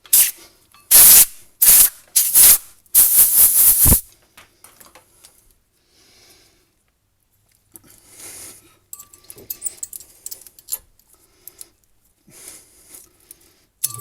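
A compressed-air blow gun gives several sharp bursts while cleaning front brake parts during a pad change on a Honda CR-V, with brief loud hisses followed by quiet rustling and handling of parts.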